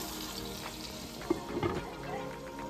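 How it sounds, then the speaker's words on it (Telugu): Kudumulu cooking in a pan over a slow flame give a soft, steady sizzle throughout, with a couple of brief louder clinks and stirs in the middle. "దీన్ని స్లో ఫ్లేమ్ మీద కుక్ చేసుకుంటే బాగుంటుందండి. ఇలా రెండు కుక్ అవుతున్నాయి."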